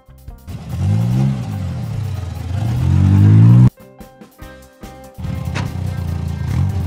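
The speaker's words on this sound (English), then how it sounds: "Transport bus." Cartoon transport bus engine driving, a revving motor rising twice in pitch, then a sharp cutoff into choppy clattering engine noise, loud and close.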